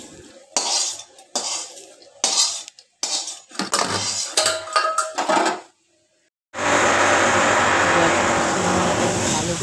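Fried pointed gourd peels, with fried garlic and boiled chillies, scraped from a pan into a bowl, giving a series of close metallic clinks and scrapes of utensils on cookware, followed by a steady loud sizzle of frying.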